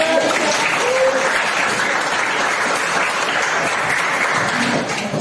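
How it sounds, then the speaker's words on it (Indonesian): A class applauds a student speaker after a persuasive speech practice, steady dense clapping filling the room from start to finish at full strength. "Silakan tepuk tangan untuk"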